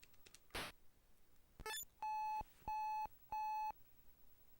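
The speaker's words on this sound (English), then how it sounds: "Is that 3 beeping that just happened." Three identical electronic beeps of equal length sound in a steady rhythm from the NES game Golf, clean and distinct, preceded by a short chirpy rising game blip.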